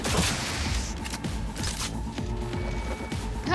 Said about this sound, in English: Whoa, is someone shooting me?